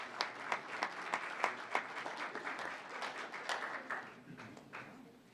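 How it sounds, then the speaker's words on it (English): Audience applause at an evening school governing board meeting honoring a coach and athletes, a moderate patter of hand claps with sharper individual claps standing out, tapering off toward the end. "Give her a round of applause."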